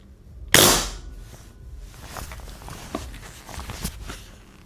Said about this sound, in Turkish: Hatta şu şekilde birkaç atış göstereyim boşta size.